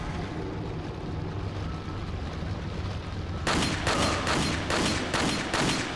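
Gunfire in the video game Resident Evil 4: after a steady low ambient rumble, a rapid run of loud, close shots bursts out and repeats at a quick rhythm to the end.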